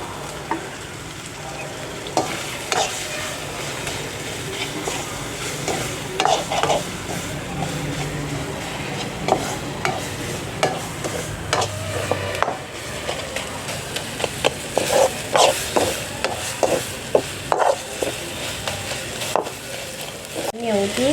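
Masala with a little oil and half a spoon of turmeric sautés in a pan for a goat blood gravy, a steady close sizzle broken by repeated scraping stirs throughout.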